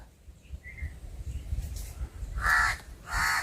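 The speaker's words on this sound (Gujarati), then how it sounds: "કાગડાનો અવાજ સંભળાય છે ને" A crow caws outdoors during a search for spiny gourds among plants. Two loud, close caws come near the end over quiet rustling background.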